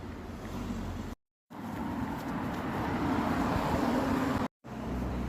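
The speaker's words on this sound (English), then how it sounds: "I'll have to excuse the background noise of the cars as well" Road traffic passing near a church in Repton, a continuous broad rumble of cars with swelling passes, broken by two brief silent gaps.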